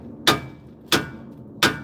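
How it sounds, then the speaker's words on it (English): Three sharp hammer taps spaced evenly, each a crisp metallic strike with a short ring, separated by quiet pauses. "That's a hammer."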